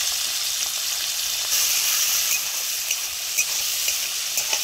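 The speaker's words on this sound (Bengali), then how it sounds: "ওই মাছ ভাজার তেলের মধ্যে এখন একটু মেথির ফোড়ন দিয়ে দেবো, কুচি করা পেঁয়াজ অল্প পরিমাণে" Fenugreek seeds and chopped onion fry in leftover fish-frying oil, giving a steady bright sizzle with a few soft stirring clicks, close and continuous, with no talk.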